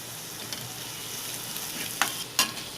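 Capsicum frying in a pan for Mumbai pav bhaji makes a soft, even hiss, with a few crisp stirring clicks bunched toward the end and no one talking.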